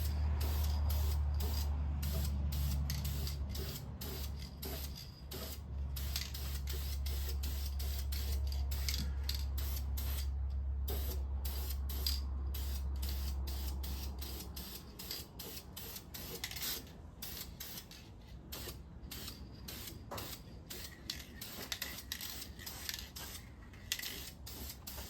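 Short hissing bursts of high-heat paint from a spray can coating a Chevy engine block during a 1984 Chevy square body motor rebuild, repeated in quick pulses over a steady low hum, close by.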